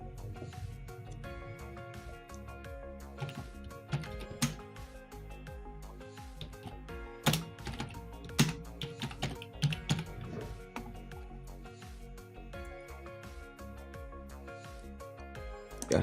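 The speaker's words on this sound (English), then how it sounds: "now I'm going to type the restaurant name" Fingers typing a restaurant name on a computer keyboard, a quiet, irregular patter of key clicks with a few louder taps, close and unaccompanied by speech.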